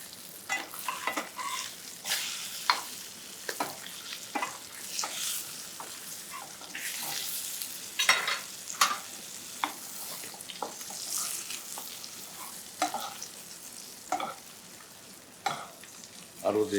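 Skate wing frying in butter in a pan over medium heat, a soft continuous sizzle broken by frequent sharp spoon scrapes and splashy crackles as hot fat is basted over it, close and moderately quiet.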